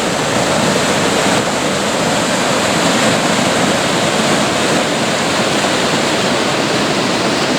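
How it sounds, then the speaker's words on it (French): A river rushes below a small rocky outcrop on a countryside hike near Pontarion in the Creuse, a loud, steady broadband roar of flowing water with no pauses, close and unbroken throughout. "je suis sur un petit promontoire rocheux au-dessus de la rivière"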